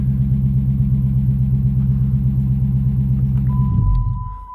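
Dodge Challenger engine idling with a steady low rumble and a faint rapid lifter tick running through it, loud and close, then the engine cuts off near the end and the rumble winds down.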